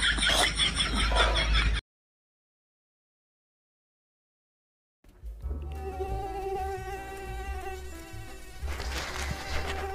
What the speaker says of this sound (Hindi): मच्छर परेशान कर दे।